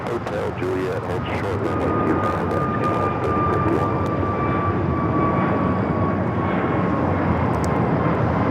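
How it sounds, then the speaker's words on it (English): An American Airlines jet, flight 307, takes off from LAX toward JFK on an A321, its engines producing a sustained loud rumble with a thin whining tone riding through, and voices faintly under the noise. "This is American Airlines 307 taking off to JFK on the"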